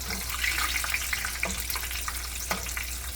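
Hatch chile rellenos fry in hot oil while oil is spooned over them with a slotted spoon, giving a continuous close bubbling hiss with light crackles and a few soft pops.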